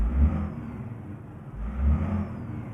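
Heavy truck engine in American Truck Simulator revving up in two surges, each rising and then easing back, with a deep rumbling idle between, close and steady, and no talk over it.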